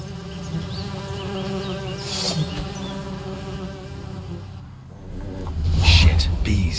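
Bees buzzing in The Witcher 3 game, a steady insect drone at middle distance carrying on under quiet ambient game sound, growing a little louder near the end.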